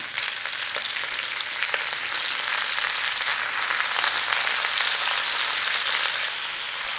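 Cabbage sizzles steadily in a hot pan for a stir fry, left undisturbed. A continuous, close, even crackling hiss with no talk.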